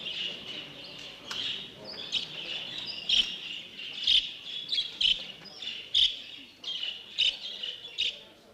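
A budgie chirps and squawks in a lively, repeated run of sharp calls at close range, fairly quiet, with no talking.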